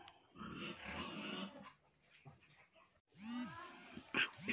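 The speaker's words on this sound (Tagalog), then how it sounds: "Dito yung dating kulungan ng baboy, kaya maingay yung baboy sa kabila." Rough pig grunts and squeals from a neighboring pen, with a loud, cluttered burst at first, then a pause before harsher, rising calls and a sharp squeal near the end.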